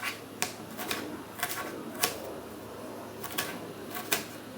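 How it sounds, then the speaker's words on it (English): An apple being cut into smaller pieces with a knife on a cutting board: a string of short, crisp chopping clicks at an uneven pace, fairly quiet and close, with no talk over them. "and then cut it into smaller pieces"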